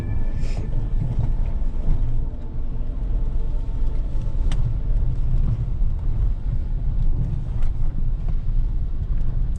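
A Cadillac car rolls along a rain-damaged road in India, its steady low road and engine rumble continuous and close, with wind buffeting the microphone throughout and no talk.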